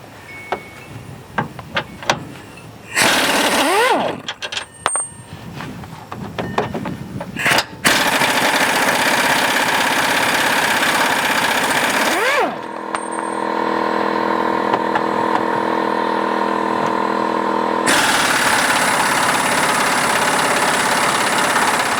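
An air impact wrench rattles off 14mm lower control arm bolts on a 2013-2017 Honda Accord, with short bursts and then long sustained hammering runs, loud and close, with no talking.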